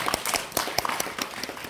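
Audience clapping at a film screening Q&A in a cinema, a modest scattering of individual claps, fairly quiet and irregular, without talk.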